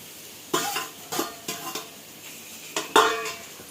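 Noodles with egg being stirred in a nonstick pan, giving a handful of scraping, clinking spatula strokes against the pan over a faint sizzle, with quiet pauses between them and no speech.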